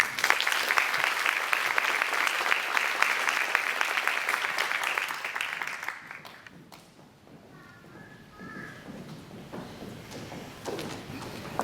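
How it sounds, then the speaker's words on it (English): Audience applause at an FFA chapter awards banquet, a dense burst of clapping that carries for about six seconds before fading out, leaving a quieter room with faint murmur and a few small knocks. "So one more round of applause for you."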